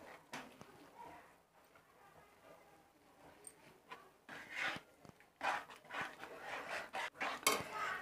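Chana dal halwa is stirred in a pan with a spoon on a low flame, giving faint, irregular scraping and clinking that grows busier toward the end, heard close and without talk.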